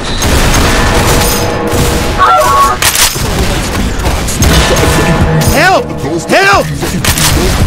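Gunfire and booming impacts fill a busy video game battle, with rapid bursts and heavy crashes over constant combat noise, while voices shout urgently for help.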